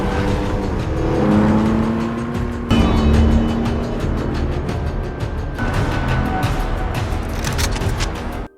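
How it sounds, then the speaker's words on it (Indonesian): A car driven fast and recklessly in an action film, its engine roaring loudly and continuously, mixed with whooshing movement and dramatic film soundtrack. "Meskipun membawa mobil dengan kecepatan tinggi dan ugal-ugalan, namun Jeff tetap santai"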